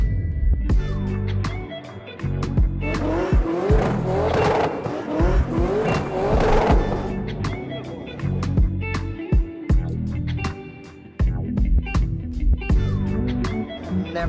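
Cars drifting at the SEMA 2023 Hoonigan section, with high-revving engines and long, loud tire squeals. Bursts of engine noise rise and fall against a noisy crowd over about fifteen seconds.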